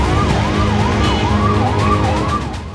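Loud wailing emergency vehicle siren sweeping up and down in rapid cycles over a low engine rumble, close by on a road in Akola, Maharashtra, where vehicles are burning after a clash.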